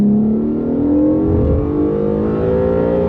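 A 2017 Acura NSX with its six-cylinder hybrid powertrain accelerates hard, engine note climbing steadily in pitch as it revs through the gear, loud and close from inside the car.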